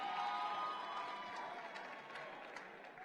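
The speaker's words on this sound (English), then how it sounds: "Let's hear your applause one more time." An audience at an awards ceremony applauds with a dense, steady wash of clapping that slowly fades over a few seconds.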